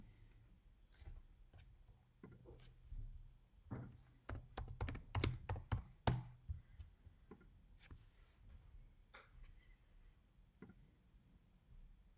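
Login credentials are entered on a computer keyboard, with soft, irregular keystrokes and a quick flurry of sharper clicks near the middle, fairly faint and with no speech.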